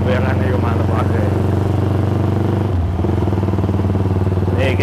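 A custom Japstyle motorcycle built on a Yamaha Scorpio engine rides along with a steady, loud, continuous engine drone and brief shifts in pitch, while people talk over it.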